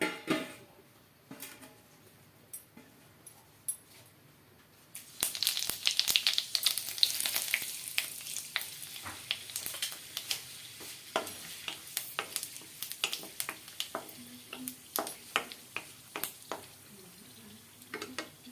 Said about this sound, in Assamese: তেল গৰম হোৱাৰ লগে লগে আমি ইয়াতে কেইটামান জিৰা, অকণমান পাঁচফোৰণ, এটা শুকান জলকীয়া আৰু তেজপাত দিম